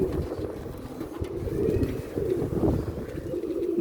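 Pigeon cooing outdoors on a windy day, a low rolling coo repeated close by, moderately loud over gusty background noise with occasional bumps.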